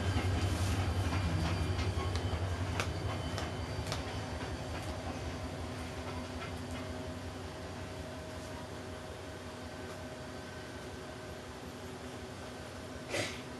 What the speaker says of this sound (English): We're going to take a break due to the fact there's a train coming.